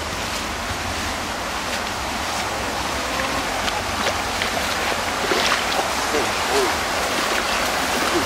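Floodwater rushes in during the 2013 flood in Oberkotzau. A loud, steady roar of churning water and wind noise fills the whole stretch without pause.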